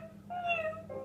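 A single short cat meow from a children's animal-sound toy, a clear mid-pitched rising then falling call, fairly faint and alone.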